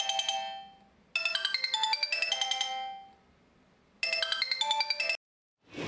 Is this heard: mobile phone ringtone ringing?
yes